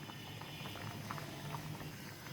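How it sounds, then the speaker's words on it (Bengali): Water coming to a boil in a pot for khichuri with a few green chillies added, making a soft, continuous bubbling patter. It stays low and even throughout, with no speech. "হ্যাঁ, পানি এখন ফুটে উঠেছে"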